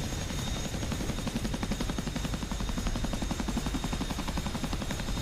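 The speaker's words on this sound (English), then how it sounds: "And we're back to the Chinook." A Chinook twin-rotor helicopter sounds close and loud, its rotors making a rapid, steady thudding chop over a constant engine roar, with no voices.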